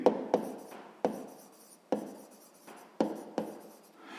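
Pen strokes writing numbers during a sixth-grade maths exercise, a series of short scratchy bursts repeating roughly every second, close and fairly soft, with no talking.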